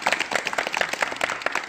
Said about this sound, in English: You give a clap.